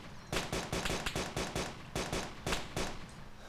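Gunfire in the video game DayZ, a rapid run of loud, close rifle shots in quick bursts with short pauses between groups.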